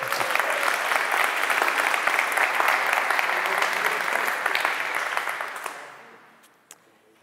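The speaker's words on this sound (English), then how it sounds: "continue clapping" Audience applause at a software conference talk fills the hall steadily for about five seconds, then thins out and fades to a few scattered claps.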